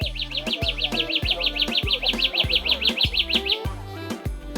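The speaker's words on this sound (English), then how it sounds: "Evergreen forest warbler proved very easy to hear but not at all easy to see." An evergreen forest warbler sings in Kenyan forest, a rapid run of repeated high chirps delivered in a quick regular series, over a rhythmic pulsing background of repeated low thumps or insect-like calls.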